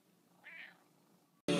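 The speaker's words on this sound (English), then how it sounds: "Cat!" A cat gives a single soft, fairly quiet meow, followed by a sudden loud, close burst of noise.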